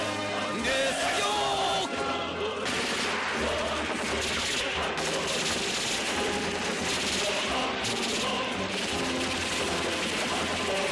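Volleys of rifle and machine-gun fire from a North Korean war film roll on continuously, loud and dense, with shouting voices and battle noise mixed in.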